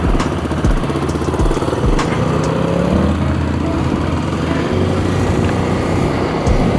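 A group of nine motorcycles on a bike tour, their engines droning loudly and close with rising and falling revs and overlapping exhausts throughout.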